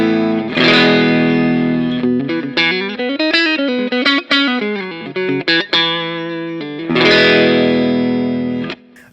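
Clean electric guitar on a Telecaster partscaster's neck pickup through a Vox cab, playing sustained chords and a melodic line with ringing notes, strummed attacks and decaying tails, close and alone.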